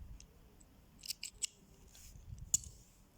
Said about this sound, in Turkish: pembe mekikteki ipimi kesiyorum